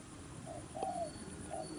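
A decoy dove coos softly a few times, a low, hollow call standing out against a quiet outdoor background.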